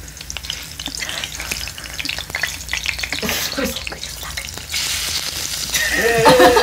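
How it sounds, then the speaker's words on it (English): Food sizzles steadily in hot oil, a dense continuous crackle with occasional stirring noises, growing slightly louder toward the end. "Oh, this is sizzling."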